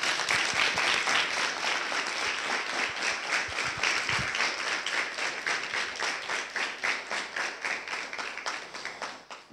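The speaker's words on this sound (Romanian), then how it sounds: "Mulțumim frumos, mulțumesc, merită aplauze." An audience at a folk song and storytelling event in Cordareni applauds, a sustained wave of clapping that settles into rhythmic, synchronized claps and slowly fades toward the end.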